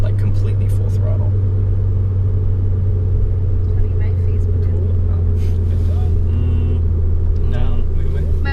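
A 2010 Volkswagen GTI with a turbocharged engine pulls hard at full throttle from about 30, its steady droning engine note running close and loud throughout while people talk over it inside the car.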